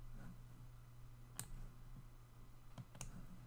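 Computer mouse clicking, a few faint, sharp isolated clicks spaced irregularly across a quiet room background.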